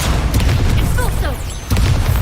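Expulso spell explosion in the Hogwarts Legacy video game during a wizard duel, a dense booming blast with sizzling magical effects, loud and close, with a brief voice shouting a spell.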